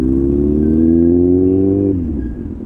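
Loud motorcycle engine revving hard on a road, a strong close rising drone held high before dropping back as the throttle eases off, with no talk over it.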